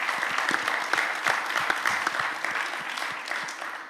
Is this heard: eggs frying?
no